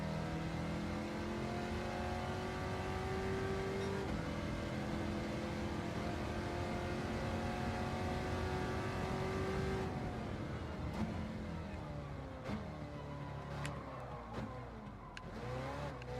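A car engine in Gran Turismo 7 racing steadily throughout, its revs climbing and shifting through gears in a loud, continuous drone, with a sharp change in tone partway through.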